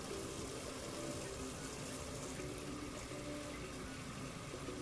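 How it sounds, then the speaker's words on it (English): Tap water runs steadily into a bucket as it fills about halfway, a continuous close rushing splash with no talk over it. "Let me go ahead and fill the water, fill the bucket up."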